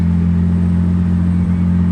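A classic SS100 car engine runs at a steady, throaty idle, close and loud, with a constant low rumble and no voices.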